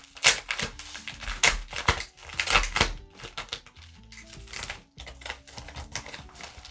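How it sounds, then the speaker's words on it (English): A paper mail envelope being handled and opened: close, busy crinkling, rustling and tearing of paper in quick irregular bursts, with no talking. "So this is the beautiful envelope that it came in."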